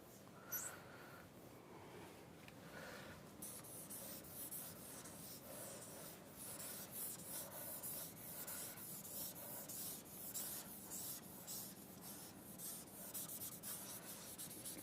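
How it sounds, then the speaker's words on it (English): An eraser or duster rubs steadily across a classroom board, making a faint, continuous scrubbing hiss with quick back-and-forth strokes and no talking over it. "I am going to erase because of the limited space, erase these things."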